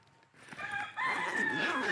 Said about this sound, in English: I told you that rooster is gonna start crowing.